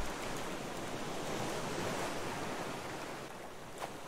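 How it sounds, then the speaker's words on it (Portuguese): Rough storm waves surge and roar in a continuous, loud wash of surf and wind on the open sea, with no voices. "O mar tá subindo de novo, tá revoltado."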